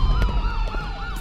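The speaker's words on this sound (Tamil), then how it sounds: "ஆம்புலன்ஸ் சத்தம் கேட்டது" Ambulance siren sound effect in a Tamil audiobook, a loud wailing tone sweeping up and down in repeated cycles over a low rumble, heard alone without narration.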